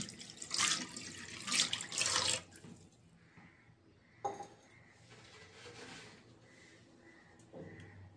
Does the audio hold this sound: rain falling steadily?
no